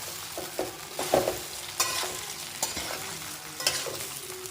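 Steamed millet-flour muthiya with fenugreek greens, tempered with sesame seeds and mustard, stirred in a pan: a steady soft sizzle broken by repeated scraping strokes of a spoon against the metal, close and moderately quiet.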